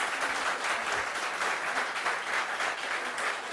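A television studio audience breaks into applause for a village mayor, a dense, steady wash of many hands clapping at moderate loudness that continues evenly, with no talking over it.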